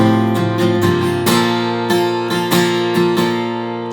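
Guitar strums out a chorus variation, a run of bright chord strokes with quick upstrokes, clear and alone.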